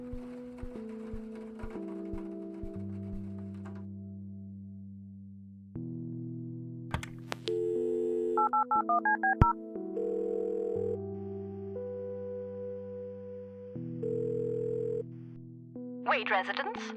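Electronic telephone tones in the game Kathy Rain play in sequence: a steady dial tone, a quick run of dialing beeps, then ringing, all synthetic and fairly quiet.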